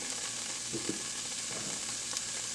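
Onions and celery sizzle in hot oil in a soup pot: a continuous, bright hiss that stays steady and close, with a few soft bumps as the vegetables settle.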